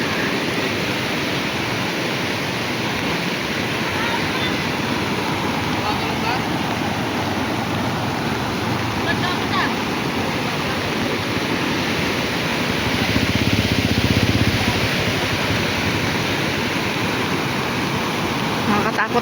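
High water rushes over a dam in a constant, roaring broadband torrent that swells briefly in the middle, with faint voices underneath.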